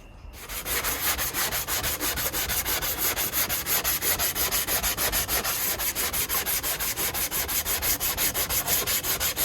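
Rhythmic back-and-forth block sanding over body filler on a Honda CRX, loud and close, with fast, even rasping strokes that continue without pause.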